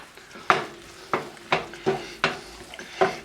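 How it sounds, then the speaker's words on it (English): Kung pao mushrooms with crushed peanuts stirred in a thickening sauce in a pan, with about six close, rhythmic scraping strokes of the utensil over a soft sizzle and no talking. "just going to stir this up"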